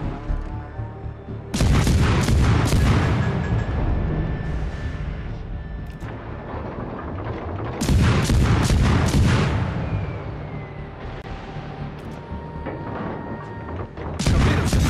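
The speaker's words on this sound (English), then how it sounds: "Concentrate fire on the designated target." Warship guns firing in a naval combat video game: three massive, booming salvos spaced several seconds apart, each a sharp, loud blast with a long rumbling decay, heard close up.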